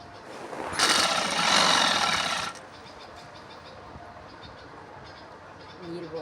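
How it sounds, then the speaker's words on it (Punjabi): Sewing machine stitching a binding strip onto a t-shirt neckline, a loud close mechanical whir running in one steady burst of under two seconds, followed by quiet room noise. "ਇਹਨੂੰ ਆਪਾਂ ਸਲਾਈ ਲਾਈ ਜਾਣੀ ਹੈ"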